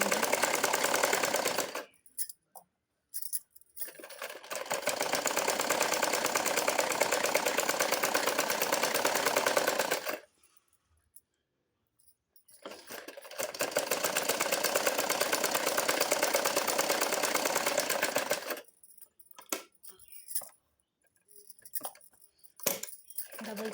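A sewing machine stitches a belt onto a petticoat in three long continuous runs of fast, even whirring, separated by quiet pauses and brief short bursts of stitching near the end.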